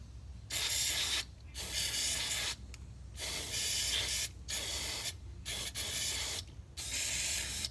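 Repeated bursts of aerosol spray hiss close by on a 1985 Oldsmobile 442 wiper mechanism, six or seven sprays of about a second each separated by short pauses, with no talking.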